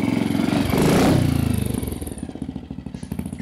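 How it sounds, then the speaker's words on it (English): Triumph Tiger Cub trials motorcycle engine with a small silencer, revving up briefly and then settling into a fast, even single-cylinder putter, close and fairly loud. "Considering it's not much of a silencer, it's actually not all that loud."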